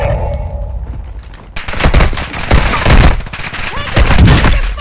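Rapid bursts of automatic gunfire rattle through a Warzone 2 firefight on Ashika Island, starting after a quieter stretch and continuing in dense, loud volleys with game voices mixed in.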